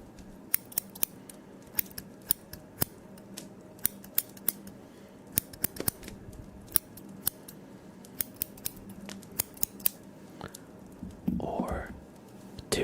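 Sharp scissor snips sound one after another at an uneven pace, crisp and close, over a quiet background with a brief soft voice near the end.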